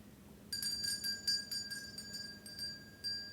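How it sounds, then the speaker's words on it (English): A big brass doorbell at a large house rings as a run of bright, metallic chimes, about a dozen evenly spaced strikes that are fairly faint over a low background hum. "Who rings the big brass bell?"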